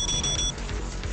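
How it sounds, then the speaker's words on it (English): Electronic beeping in the video game The Blind Prophet: a few quick, bright, evenly spaced beeps over low background rumble, then it stops abruptly halfway through. "Beep beep."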